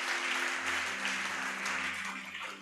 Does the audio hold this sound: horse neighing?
no